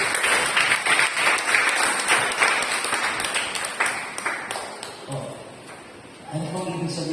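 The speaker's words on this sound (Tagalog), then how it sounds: "Habang pumapalakpak dahil maganda na nangyayari sa mga live group." A church congregation applauds during a service, with dense, rapid clapping for about five seconds that gradually thins and fades. A voice then begins speaking as the applause dies away.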